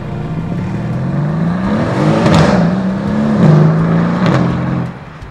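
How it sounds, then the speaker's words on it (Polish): Mercedes-AMG C63 S with a 4-litre twin-turbo V8 putting 700 Nm to the rear axle, revving hard under throttle in a sports car test, the engine note rising and falling through several loud surges, close and continuous, with no talk. "4-litrowy silnik z 2 turbosprężarkami wytwarza aż 700 Nm momentu obrotowego"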